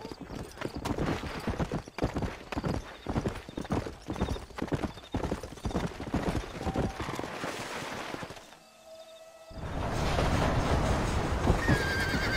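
Horse hooves in the video game Red Dead Redemption clip-clop steadily at a quick pace, with horses neighing now and then; a brief lull near the end gives way to louder, denser noise.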